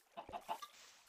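Minecraft chickens clucking during a farm-animal minigame: three short, close clucks in quick succession, then a brief fainter chirp, alone without talk.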